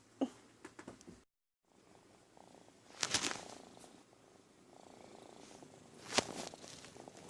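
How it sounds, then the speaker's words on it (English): A cat purrs close by, a faint low continuous rumble broken by a short silent gap and a few sharp rustling bumps. "Can you hear the purring?"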